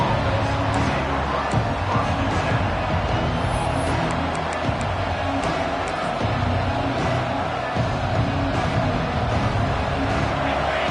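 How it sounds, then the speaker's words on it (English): Loud, sustained roar of a packed college football stadium crowd at an Auburn vs. LSU game, a dense wall of cheering and noise that stays steady throughout without a break. "This crowd bringing an ear-splitting welcome to their visitors."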